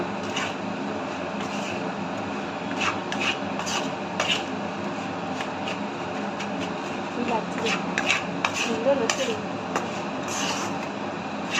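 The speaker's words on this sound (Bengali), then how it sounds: "আমি 250 গ্রাম বিস্কুটের গুঁড়ো দিয়ে দেবো। দিয়ে ভালো করে ভেজে নেব।" Biscuit crumbs for Mughlai paratha dry-frying in a pan, giving a steady soft rasping hiss with repeated scraping strokes of a spatula throughout, close by.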